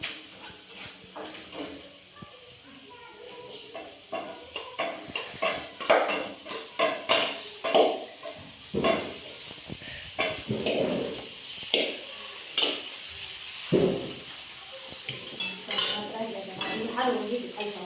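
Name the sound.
stirring leftover rice frying with spices in pan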